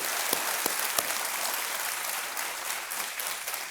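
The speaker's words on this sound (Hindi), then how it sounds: "एक बार फिर तालियों के साथ इनका स्वागत" A studio audience on a TV quiz show bursts into dense, continuous applause to welcome a contestant, with a few sharper claps standing out at the start and the sound holding loud and even throughout.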